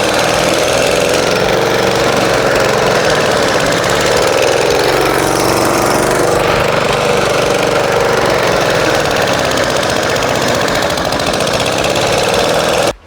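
A lawn mower engine roars loudly and steadily at close range, scalping and scarifying a lawn being renovated in late March, with a slight change in load partway through and no talking.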